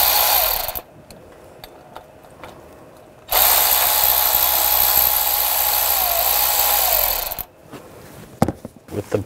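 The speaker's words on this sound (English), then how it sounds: "Use a 10 millimeter socket." Socket ratchet clicking as it backs out the water pump pulley bolts on a 2015-2020 Ford F-150 V6 engine, a close, steady ratcheting burst running for several seconds between quieter taps and handling noises.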